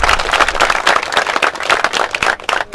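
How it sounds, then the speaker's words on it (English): A round of applause from people at a Blue-Grey All-American football combine, loud, close and continuous clapping with a brief dip near the end. "give yourself a round of applause"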